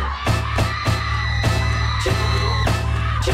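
A crowd of people yelling and screaming on a Mexican television variety show set, loud and continuous, with sharp bangs and whoops breaking through a dense roar.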